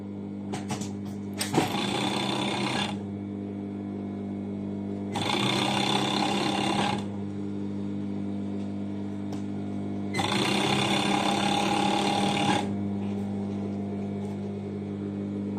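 Sewing machine stitching the side seam of a dress with pockets, three separate bursts of steady whirring stitching, each lasting a couple of seconds, separated by pauses over a constant low mechanical hum, close and fairly loud.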